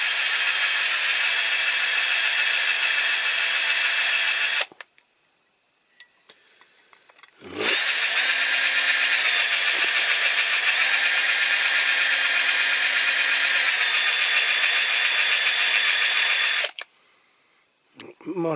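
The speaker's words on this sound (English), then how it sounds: "I'm going to drill that out." A power drill whines steadily through two long runs, drilling out metal on a Matchbox King Size Hoveringham tipper model, broken by a short quiet pause, loud and close.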